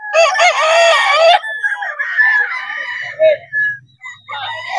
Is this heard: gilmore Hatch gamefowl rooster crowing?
yes